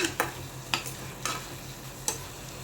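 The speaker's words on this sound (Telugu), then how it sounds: "ఇప్పుడు కొత్తిమీర కూడా బాగా కలిపేద్దాం ఒకసారి" A spoon stirring egg curry with fresh coriander in a pan, a few sharp scraping knocks spaced apart over a low steady sizzle, close and without talk.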